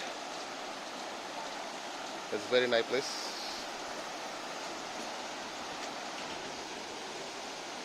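River water flowing beneath a small bridge at Langsokangthu/Siloni, a constant broadband rush heard throughout, steady and moderately distant, with someone briefly speaking over it.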